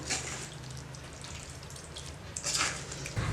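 Water drains through a strainer as cooked paneer curds are pressed by hand, a faint trickle and patter close by with a couple of brief splashy bursts.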